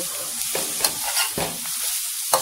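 Lumpia filling stirred in a frying pan, a bright hissing sizzle punctuated by several sharp spatula scrapes and clacks at uneven intervals, close and fairly loud, with no one talking.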